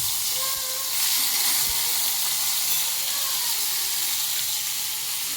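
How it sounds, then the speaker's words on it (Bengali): Onion paste sizzles in hot oil in a pan while spinach paneer is being made, a steady loud frying hiss with soft stirring scrapes and no talking. "তেল গরম হয়ে গেছে, একটু পেঁয়াজ বাটা দিয়ে দিলাম"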